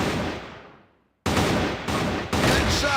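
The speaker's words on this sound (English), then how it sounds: "Ooh, nice little headshot," Sniper rifle fire in the video game CrossFire, a loud close burst of gunfire fading out, silence, then abrupt loud bursts of shots and rattling gunfire, dense and harsh; no voices.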